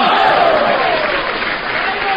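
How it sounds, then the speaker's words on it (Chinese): An audience applauding at a live performance, a broad continuous wash of clapping that holds steady and loud, with a faint sustained voice underneath. "可以鼓掌了。"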